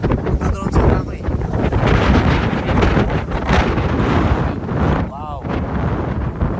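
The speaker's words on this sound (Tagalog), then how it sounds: "Sobrang lakas na ng hangin." Strong outdoor wind buffets the microphone, a loud, continuous rumbling roar that swells and eases in gusts, with a brief voice-like sound partway through.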